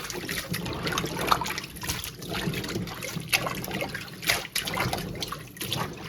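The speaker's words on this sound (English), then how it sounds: "Next, we're just going to wash the beans in some cold water." Green beans being washed under cold running water, with a steady splashing trickle and intermittent louder splashes throughout, close by and alone.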